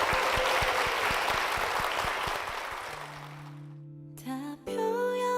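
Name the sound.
church congregation applause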